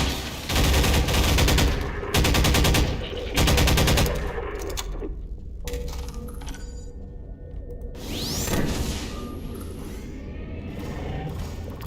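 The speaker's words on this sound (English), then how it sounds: "Test out the AR2 down here." Automatic AR2 rifle fire in a Half-Life 2 mod horror game, loud rapid bursts in several volleys followed by mechanical clatter, thuds and ambient game noise, with no talking.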